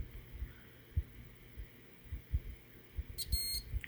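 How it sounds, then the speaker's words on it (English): Multimeter continuity beeps while pins are probed on a stripped GoPro 6 button board, a short high electronic tone near the end over faint tapping and handling knocks, quiet and close. "It should only beep once when I hit the right pin."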